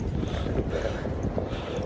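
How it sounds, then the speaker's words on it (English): Wind buffets the microphone with a low, continuous rumble and rustle. "It's quite windy."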